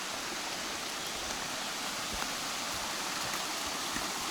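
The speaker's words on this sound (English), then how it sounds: "I bet you that's waterfall down there" Steady broadband rush of water from a waterfall along a forest stream on the Loyalsock Link Loop Trail, a continuous even roar somewhat distant, with no voices over it.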